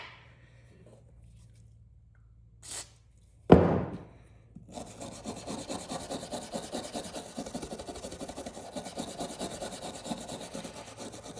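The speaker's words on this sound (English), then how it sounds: "Now I got a wire brush." A wire brush scrubs the blade of a Case Stockman pocket knife in quick, close scratchy strokes. A sharp knock comes first, then the scrubbing runs steadily and quietly with no voices.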